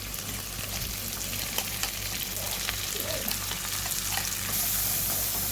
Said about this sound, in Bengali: এবার ওই তেলের মধ্যেই কালো জিরে ফোড়ন দেবো আর একটু দেবো পেঁয়াজটা হালকা ভাজা ভাজা হয়ে গেলে এই পেস্টটাকে দিয়ে দেবো।